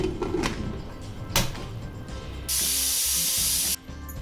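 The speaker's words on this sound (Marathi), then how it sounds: "आता कुकर लावून 2 शिट्ट्या द्यायचे।" A pressure cooker with raw mangoes inside lets out a sharp, steady hiss of escaping steam lasting just over a second, after some clatter and handling noises.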